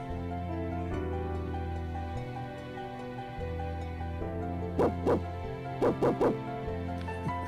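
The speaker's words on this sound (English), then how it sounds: "I love the little MIDI doggy sounds are still in." Little MIDI dog barks in the Final Fantasy VI Pixel Remaster, five short yips in two quick clusters over a steady game music backing.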